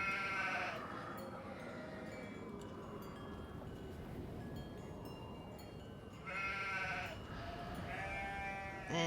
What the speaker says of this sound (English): I can't catch the sheep. Don't know what to do with the sheep.